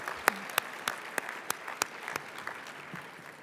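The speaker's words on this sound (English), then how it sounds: "so let's give a round of applause for that." Conference audience of several hundred at a luncheon applauding; a steady wash of clapping with sharp individual claps standing out at regular intervals, moderately loud and sustained throughout without talk.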